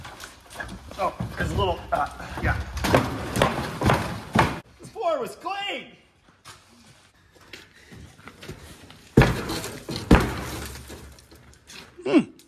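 Car window glass smashed out of a rusty 1973 Plymouth Scamp during aggressive disassembly, with sharp crunching breaks and scattered shattering bursts amid excited talk and exclamations nearby.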